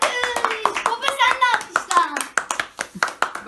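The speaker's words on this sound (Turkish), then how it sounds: "Alkış." Several sharp hand claps ring out at home during a surprise birthday cake celebration. Voices, including a child's, talk over and between the claps.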